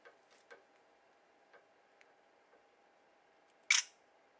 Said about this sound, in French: si je prends une photo dans le noir